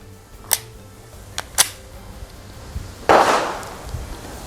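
Taurus TH9 pistol fired at a target 10 yards away: three sharp cracks spaced about a second apart, followed by a louder, broader blast, with quiet pauses between.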